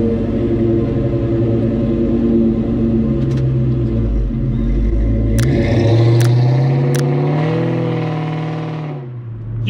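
A 1998 SVT Cobra's engine drones steadily while driving, then climbs in pitch as it revs harder, with a few sharp mechanical clicks, before the revs drop and the sound fades out.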